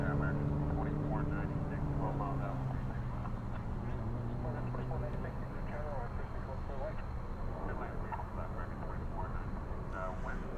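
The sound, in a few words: airplane in the distance at DFW airport at night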